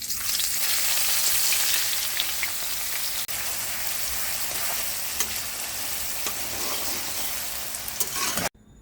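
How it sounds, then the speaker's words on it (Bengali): Sliced onions frying into birista in hot oil for biryani, a loud, dense, continuous crackling sizzle heard up close, steady throughout and cutting off abruptly at the end, with no voices. "তো এরপরে আমি বেরেস্তাটা ভাজতে দেব।"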